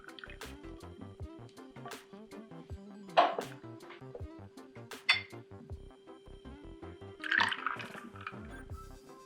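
Pineapple juice pours into a container for a cocktail in short, gurgling bursts and drips, set against quiet room tone with faint clinks of glass or bar tools.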